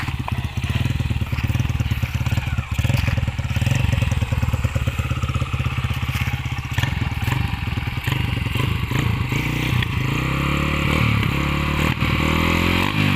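A Honda Wave 110i motorcycle with a 53 mm can exhaust runs loud and close, its engine note rising and climbing in pitch as it pulls away, with rattly mechanical clatter throughout.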